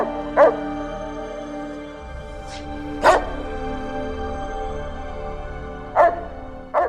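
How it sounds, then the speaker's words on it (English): Roxy the cyber dog in Fallout: New Vegas barks in three or four sharp, separate bursts spaced a few seconds apart, each clear and close, over a steady low electronic game hum. "That's Roxy, the cyber dog."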